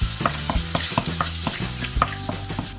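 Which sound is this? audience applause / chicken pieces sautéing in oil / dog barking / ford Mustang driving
chicken pieces sautéing in oil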